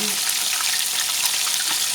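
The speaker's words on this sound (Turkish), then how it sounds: "Şu şekilde size ben birazını kızartayım." Kuru köfte meatballs frying in a pan, a loud, steady, dense sizzle with crackling throughout, close up and without talk.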